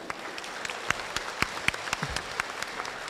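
An audience applauds the author at a town book launch, with steady, moderately faint clapping from a smallish crowd throughout.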